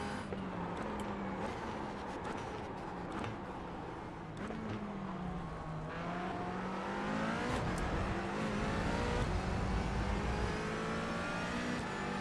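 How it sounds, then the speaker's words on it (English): A McLaren 570S GT4 race car engine in iRacing revs high and shifts through gears, whining up and down in pitch, with occasional tire noise, steady and fairly close. "I like the audio on it. I mean, who doesn't like the sound of a McLaren?"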